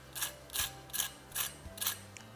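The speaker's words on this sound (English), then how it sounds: "we definitely cannot forget that crispy sound test" Crispy pan-fried Chinese turnip cake (lo bak gou) bitten or cut close up, five faint crunchy crackles in a steady rhythm with no talk.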